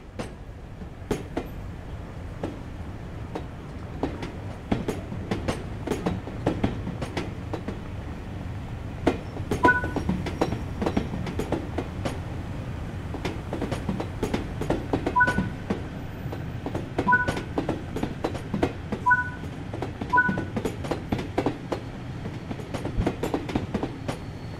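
LMS Stanier Class 8F steam locomotive in BR Black livery in Train Sim World 3, with steady clickety-clack of wheels over rail joints, rolling rumble and a few short high tones, loud and continuous with no talk.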